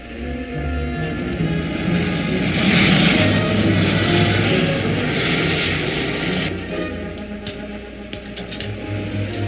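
Propeller airplane engine as the plane turns in for landing, a loud, steady droning roar that swells in the middle and then eases slightly, heard alone.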